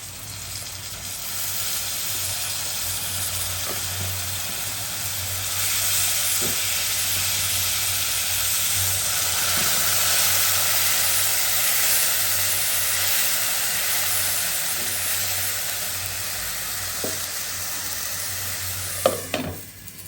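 Garlic paste sizzling in oil in a pan with onions that have already been fried, a steady moderately loud frying hiss that lasts throughout, with a few faint clinks and a louder utensil knock near the end.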